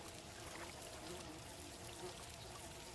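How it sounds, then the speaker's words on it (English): Water pours steadily over planted crops in the game Outbound, a faint, even trickling stream that runs without a break. "And now we water these bad boys."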